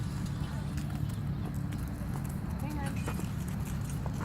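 Pony hooves clip-clopping at a farm day's pony rides, a soft, fairly close, irregular clatter of steps under ongoing outdoor chatter.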